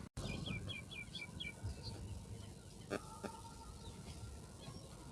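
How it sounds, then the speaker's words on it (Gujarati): Birds call at a lake in early morning, with a run of quick, faint chirps near the start and scattered tweets afterwards over a low hum of outdoor noise. A couple of brief clicks stand out. "પક્ષીઓ હવે ધીમે ધીમે ઉડવા મળ્યા છે"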